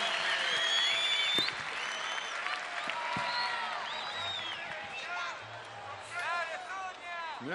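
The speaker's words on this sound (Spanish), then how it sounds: "Pero más fuerte el aplauso" Concert audience at a Mercedes Sosa tribute claps steadily while people talk over it and a few whistles rise above the crowd.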